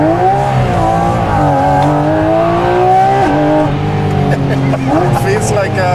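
High-revving engine of a Porsche GT4 RS road-legal race car, climbing toward 9,000 rpm in a strong, steady howl with rising pitch sweeps and brief gear-change dips, loud and close throughout.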